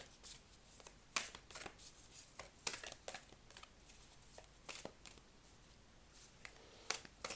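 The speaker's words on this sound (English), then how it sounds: "I'll pull a few more cards from this deck." Tarot cards are shuffled and drawn from a deck at close range, giving soft riffling and sharp flicking snaps that come in irregular bursts against a quiet background.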